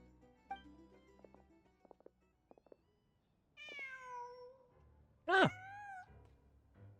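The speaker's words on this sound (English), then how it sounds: "Just a cat." A cat in the Genshin Impact video game gives a single clear, drawn-out meow near the end, after scattered soft game sounds and a brief tonal chime.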